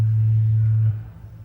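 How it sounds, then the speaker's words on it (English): A pure low sine test tone held steadily and loudly for just under a second before cutting off, leaving a faint fading room resonance behind. "Sine waves are nice to talk about because they are pure single frequencies."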